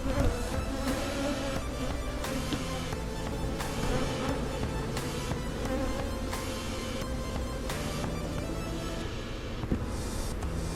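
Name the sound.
swarm of bees buzzing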